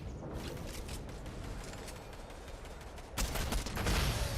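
Sniper gunfire in a multiplayer shooter video game, a dense burst of cracking shots that grows louder and heavier toward the end, with no voices in between.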